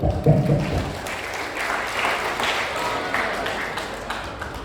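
A gathering of university students on community service in a village claps hands together in a sustained burst, after a brief voice at the start.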